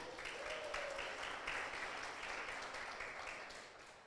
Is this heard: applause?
yes